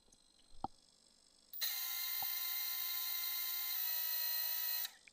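A small drone's brushless motor, driven by its ESC, spins up with a loud, steady high-pitched whine that holds for about three seconds, then cuts off, preceded by a couple of faint clicks.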